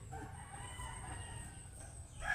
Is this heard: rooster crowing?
yes